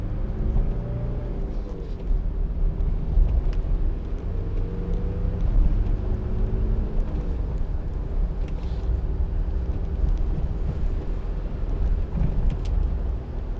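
2005 Mitsubishi L200 2.5 TD double cab pickup driving a bumpy country lane over a pothole, heard from inside as a steady low engine and road drone with a faint soft knock partway through.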